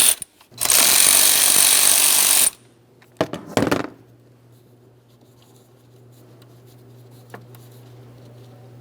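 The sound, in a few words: tool removing 10mm mounting nut on Ford F-150 alternator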